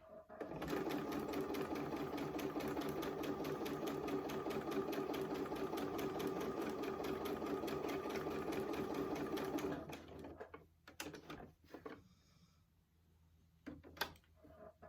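A sewing machine runs in one steady, close burst while stitching a quilt block seam for a square-in-a-square block, then stops abruptly, leaving a few small handling clicks and knocks.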